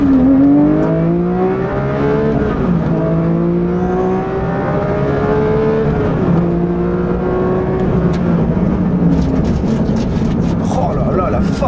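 A Porsche 911 S/T engine howls through rising revs under full-throttle acceleration, its loud tone sweeping upward in repeated gear-by-gear climbs, with a driver's voice speaking over the engine.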